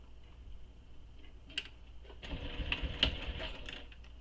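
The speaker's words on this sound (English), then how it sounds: "I'm going to just go ahead and sew it in place." A sewing machine bastes unfilled flat piping onto a Danbury tote bag at a long stitch length. A soft motor hum runs faintly at first, then swells into a steadier, louder whirring rattle for the second half.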